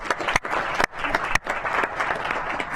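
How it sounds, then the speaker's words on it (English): Applause for a communications team at a city council session, a steady dense wash of clapping from the chamber lasting the whole stretch, with a few brief dips. "Please give another round of applause for Jordan Lindsay and the communications team"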